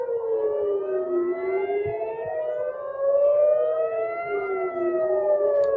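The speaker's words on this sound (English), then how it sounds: "Again, I'm hearing sirens." Civil defense air-raid sirens sound during alerts in the Tel Aviv area, several overlapping wailing tones rising and falling slowly, loud and sustained with nothing else audible.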